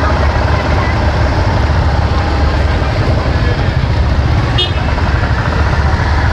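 Dense evening rush-hour road traffic on a slick road in Tamil Nadu, heard from a motorcycle: a steady, loud roar of engines and tyres, with one brief car horn toot partway through.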